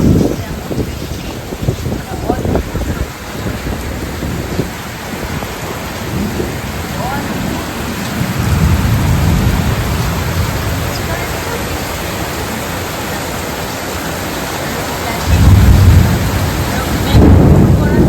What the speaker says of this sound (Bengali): তোমাদের আমাদের জানলা থেকে রান্নাঘরের একটু ওয়েদারটা দেখাই, কি অসম্ভব বৃষ্টি হচ্ছে